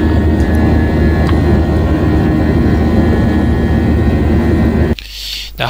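A Tigerair passenger jet's engines roar loudly and continuously from inside the cabin on a rainy day at Naha Airport, Okinawa, then the sound drops sharply near the end.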